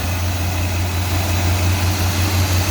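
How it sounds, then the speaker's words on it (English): A small engine warming up after a cold start with the choke in use hums at a steady, loud idle, running smooth and even throughout. "the engine is starting to race a little bit faster. It's starting to run a little bit smoother."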